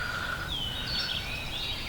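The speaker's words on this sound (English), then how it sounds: "Listen to the birds singing here." Birds singing at dawn around a campsite in Raccoon Creek State Park, Pennsylvania, with a few thin, clear whistled notes drifting at moderate distance over a low outdoor rumble.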